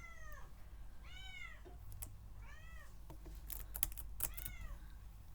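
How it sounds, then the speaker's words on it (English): A house cat meows insistently, with about four drawn-out, rising-falling meows spaced a second or so apart. Faint computer-keyboard typing clicks run alongside them in a quiet room. "The cat is demanding."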